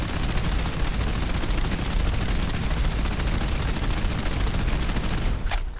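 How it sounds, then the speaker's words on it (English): Continuous rapid automatic fire from a modded AKM rifle loaded with .38 ammunition with explosive rounds in Fallout 4, a dense, loud, unbroken stream of shots at high rate of fire lasting several seconds before cutting off. "This is currently shooting the .38 ammunition."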